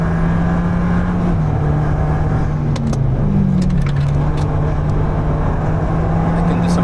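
A modified, street-legal Alpine A110 sports car drives hard through lift-off oversteer, its engine a loud, continuous close-up drone that dips and swells slightly in pitch over the run.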